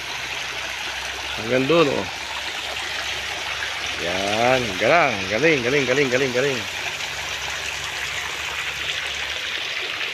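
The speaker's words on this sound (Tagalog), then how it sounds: "Tumutuloy yung tubig" Water runs continuously in a resort water feature, a steady hiss heard close and throughout, while someone talks over it in bursts.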